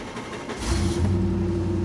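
An LS V8 fitted with a Holley 650 CFM carburetor on a 1-inch spacer cranks and fires on a dyno, jumping from a whir into a loud, steady idle roar, recorded nearby.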